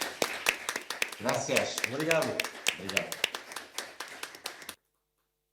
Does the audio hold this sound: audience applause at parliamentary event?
yes